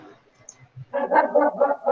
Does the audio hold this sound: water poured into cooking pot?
no